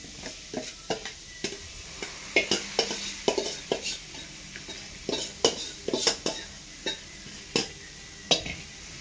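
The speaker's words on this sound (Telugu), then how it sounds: "ఇడ్లీ పిండితోటి ఉత్తప్పం వేసిన అండి" Uttapam made from idli batter sizzles on a pan with a steady, close hiss, punctuated by frequent clinks and scrapes of a utensil against the pan.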